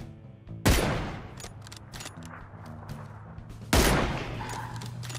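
Gunshots from the video game PUBG: two loud, sharp reports about three seconds apart, each followed by a decaying tail, over a steady game backdrop with faint clicks and mechanical noise.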